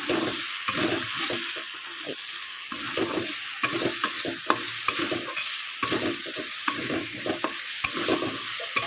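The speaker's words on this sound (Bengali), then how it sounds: "দেখো চিংড়ি মাছ ভাজা হয়ে গেছে" Prawns being stir-fried in a wok give a loud, close sizzle, with repeated scraping and tossing strokes of a spatula over a constant frying hiss.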